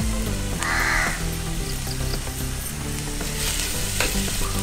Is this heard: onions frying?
yes